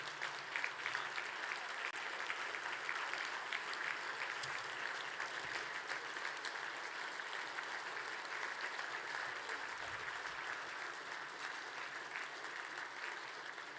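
An audience at a speaker series luncheon claps for the military heroes and first responders present, a steady, dense round of applause that fills the room and holds without a break.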